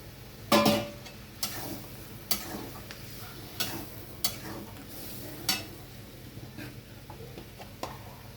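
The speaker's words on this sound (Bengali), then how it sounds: "এবার আমি ভেজে রাখা সবজিগুলো এতে দিয়ে দেবো।" Fried vegetables for sukto go into a pan and get stirred, with sharp spoon taps and scrapes against the pan every second or so over a faint sizzle.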